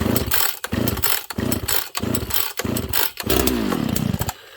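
A Dolmar 7300 chainsaw with heavy compression is pulled over repeatedly on full choke, giving five or six loud rhythmic cranking bursts before it briefly catches and sputters near the end.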